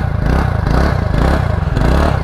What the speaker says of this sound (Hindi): आवाज़ सुनो यार, लो भाई लगेगा स्पोर्ट्स स्कूटर है, सुनो।